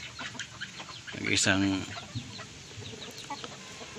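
A farmyard rooster among many chickens gives one loud, drawn-out call in the middle, with someone speaking softly before and after it.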